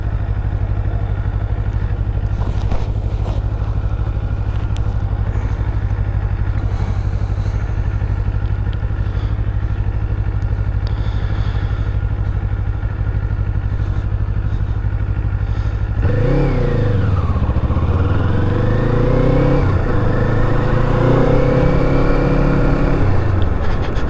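Kawasaki Eliminator motorcycle ridden through town, its engine a loud steady drone near the microphone, then revving up and down through gear changes in the final seconds.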